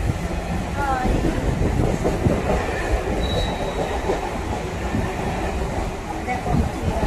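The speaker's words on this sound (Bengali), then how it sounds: "ট্রেনে করে যাচ্ছি" A train runs on rails with a continuous loud rumble and rattle, a brief wheel squeal near the start, and a voice briefly heard.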